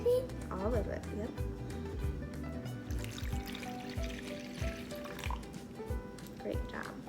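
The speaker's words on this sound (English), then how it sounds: "first we're gonna put the cold water in the bowl" Cold water pours and splashes into a bowl in a steady, close stream, with trickling and dripping throughout as voices talk over it.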